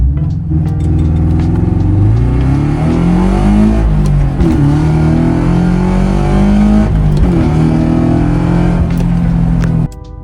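Stage 2 Subaru BRZ accelerating hard from inside the cabin, the engine revving up loud and steady through the gears with rising pitch and brief dips at shifts, no talking.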